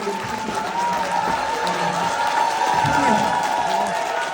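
A concert audience at a healing talk concert claps steadily throughout, a continuous wash of applause with a sustained tone and a voice faintly heard underneath.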